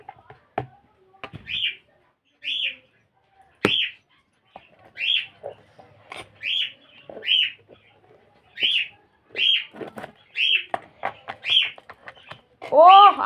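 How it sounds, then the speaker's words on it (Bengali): A pet bird calls repeatedly in a home kitchen, bright short chirps spaced about a second apart, close and clear, mixed with clatter and a louder call at the end. "আমার পাখি কি ডাকছে রে!"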